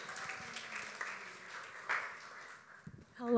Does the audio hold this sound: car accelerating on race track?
no